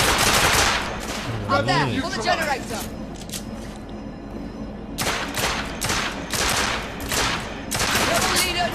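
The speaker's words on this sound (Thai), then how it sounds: "ปืนลั่นครับขออภัย" Gunfire bursts from the video game The Order: 1886, with a rapid volley at the start and repeated loud shots returning later, under a voice commenting over the game.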